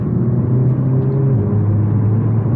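A Renault Megane 4 RS 300 on real roads, its engine giving a loud, steady low rumble and drone from inside the car with a faint whir over it and no speech.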